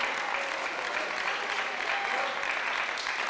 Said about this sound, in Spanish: ¿Por qué no le damos un fuerte aplauso al Señor por la ministración de su palabra?